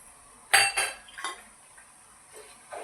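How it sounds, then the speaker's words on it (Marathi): A spoon clinks and scrapes against a pan while turbo-style spices such as turmeric, asafoetida, salt, garam masala and chilli powder are stirred into crispy chivda. A few sharp metallic knocks come close up, followed by quieter scraping, with no talk. "आता एकसारखं हलवून घ्यायचं."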